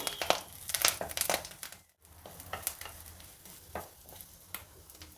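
Betel leaves roast in a hot pan to drive off their raw smell: steady soft sizzling with repeated scraping and crinkling stir strokes, close and fairly quiet, with a brief silent gap partway through.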